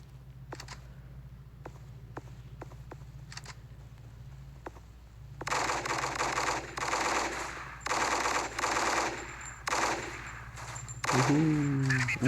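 Gunfire in the video game Special Force, starting with scattered single shots and clicks, then long bursts of rapid automatic fire that come in heavy repeated volleys, loud and close.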